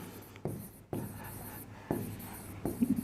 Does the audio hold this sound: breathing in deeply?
no